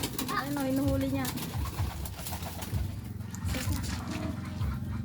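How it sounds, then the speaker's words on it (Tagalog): Pigeons cooing close by in low, throaty repeated calls while being fed, with voices talking and other background noise mixed in. "yung mga kalapati niya guys"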